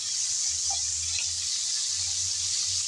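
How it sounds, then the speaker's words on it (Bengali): Okra coated with salt and turmeric fries in hot oil, giving a steady, even sizzling hiss throughout with no voices. "তাই কিছুটা পরিমাণ ঢেঁড়সের মধ্যে লবণ আর হলুদ দিয়ে প্রথমে তেলের মধ্যে ভেজে নিচ্ছি।"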